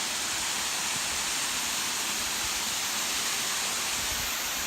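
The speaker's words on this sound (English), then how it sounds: "We'll get a better view of the waterfall." A waterfall at Chalk Ridge Falls Park in Belton, Texas pours as a steady, full broadband rush of falling water that fills the whole clip, loud and unbroken with no voices.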